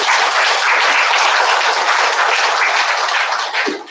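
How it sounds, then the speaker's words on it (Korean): Loud, dense applause from a church congregation after a worship song, continuous clapping from many hands close by that fades slightly at the end, with no talk over it. "다 같이 한번 응원과 격려의 박수 한번 해주세요."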